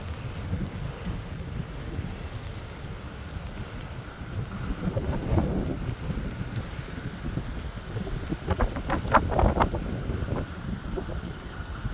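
Heavy rain pours over Kochi beside a river, heard from a rooftop terrace as a steady broadband wash with gusty wind buffeting the microphone and a few louder bursts near the end; no one speaks.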